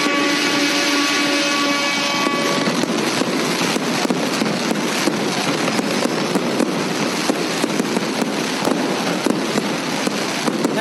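Fireworks crackle and pop densely and continuously, a loud flurry of sharp bangs and fizzing bursts after an opening whistle-like tonal sound.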